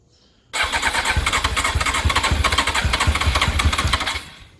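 A carbureted 1999 Honda CBR600 F4 that sat over ten years fires up and runs with a loud, close, steady engine roar for several seconds before cutting off abruptly.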